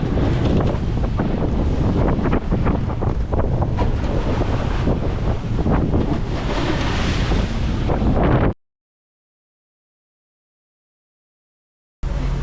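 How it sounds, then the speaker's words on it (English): Loud, steady wind buffeting the microphone over rushing waves on the open sea between Tahiti and Tonga for several seconds, then abrupt silence before the roar briefly returns. "It's windy."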